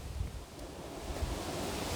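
Wind gusts across an open deck beside a fire pit, a steady broadband rush with low buffeting thumps, no voices.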